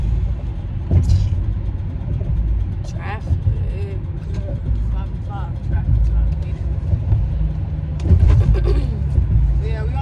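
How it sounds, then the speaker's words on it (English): Road traffic is heard from inside a moving car as a steady low engine and road rumble, with passing vehicles swelling now and then, while people talk over it in the cabin. "Traffic."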